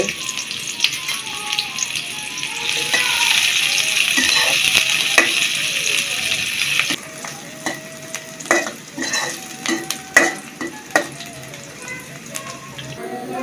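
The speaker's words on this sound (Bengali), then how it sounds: "আমাদের পেঁয়াজ ভাজা হয়ে গেছে।" Chopped onions fry in hot oil in a pan for a sea fish curry, a steady close sizzle broken by repeated scraping stirs and clacks of the spatula, the hiss dropping partway through.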